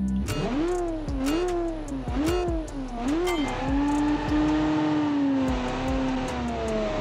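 A 1970 muscle car engine in the video game Automation, with 281 horsepower and side exhausts, revs up and down several times, loud and close, then holds a steady drone.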